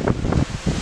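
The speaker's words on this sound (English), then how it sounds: "But whoa, this wind is absolutely insane." Strong storm wind gusts roughly against the microphone in two heavy rumbling bursts, separated by a brief lull.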